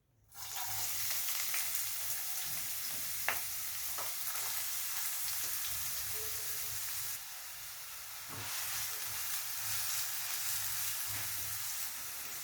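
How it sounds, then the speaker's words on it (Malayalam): Chopped onions frying in hot sunflower oil, a steady loud sizzle running throughout with a few sharp crackles and a brief dip in intensity partway through. "എണ്ണ ചൂടായി കഴിയുമ്പോൾ അരിഞ്ഞു വെച്ചിരിക്കുന്ന ഉള്ളി ഇട്ട് കൊടുക്കാം."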